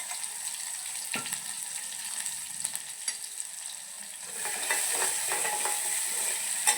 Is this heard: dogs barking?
no